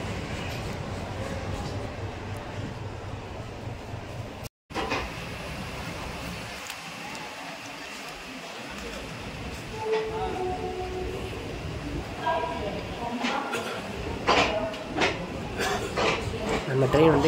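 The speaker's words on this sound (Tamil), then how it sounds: "நம்ம ட்ரெயின் வந்து கரெக்டாக 5 எக்மோர் ஸ்டேஷன்லேருந்து கிளம்பிடுச்சு" A Kollam Express train leaving Chennai Egmore station rumbles and clatters steadily with faint metallic rattles and squeaks, under a constant low background hum.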